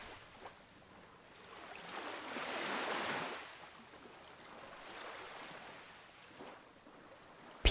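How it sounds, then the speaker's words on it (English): Gentle ocean waves wash onto a beach in slow swells, rising to a broad hiss and falling back several times, soft and fairly distant with no voices. "you can hear the waves and the water"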